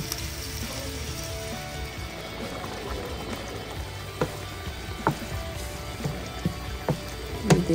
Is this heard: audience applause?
no